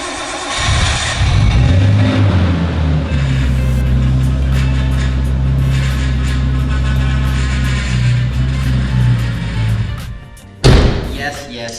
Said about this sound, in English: my power steering sounds like poop